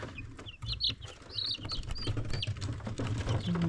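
Dozens of young chicks, about seventy, fill a brooder with continuous high, overlapping peeps and chirps over a steady rustling, noisy background.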